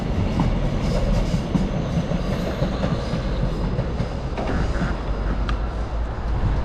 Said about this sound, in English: We're catching one of the trains still in use.